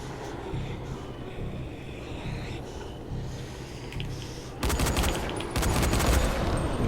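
Shotgun blasts in the zombie game Dying Light come as a few loud, close bursts of gunfire rising sharply out of faint background ambience.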